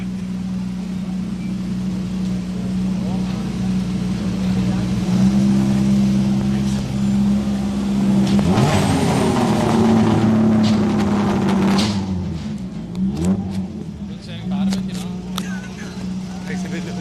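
White Ford Escort rally car on the start ramp at the Donegal International Rally, its engine running steadily then revving up and pulling away, with a commentator talking throughout and crowd noise behind.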